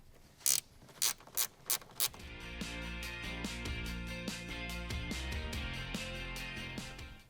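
Ratchet loosening 8mm bolts in the trunk of a Tesla Model 3, starting with five distinct clicks and then a quick continuous clicking ratchet whir that runs steadily, close up and alone.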